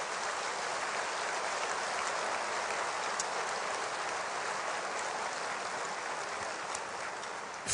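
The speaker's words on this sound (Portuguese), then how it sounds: "eu queria pedir que este auditório tão seleto oferecesse um aplauso a Deus pela vida destes homens" An auditorium audience at a Portuguese-speaking church gathering applauds in a continuous, even hiss of many hands clapping, sustained at moderate, steady loudness with no voices over it.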